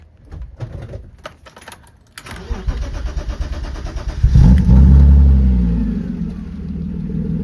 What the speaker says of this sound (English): I've heard E36s and E46s with just muffler deletes, just chop the muffler off.